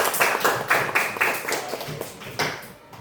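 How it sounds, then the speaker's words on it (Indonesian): A small classroom group of trainees claps for a student, uneven bursts of hand claps that thin out and fade near the end. "Silakan dulu beri tepuk tangan untuk Haikal dulu."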